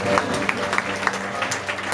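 A brief burst of audience applause for a live band performance, clapping steady with a few sharper individual claps standing out near the front.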